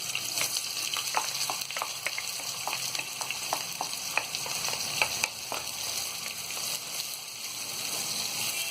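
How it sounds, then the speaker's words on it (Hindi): Onions fry in a pan with cloves, black pepper, mace and a bay leaf for mutton stew. A steady, loud sizzle runs throughout, with light stirring clicks scattered across it and no voices. "प्याज को हम हल्का गुलाबी होने तक तलेंगे।"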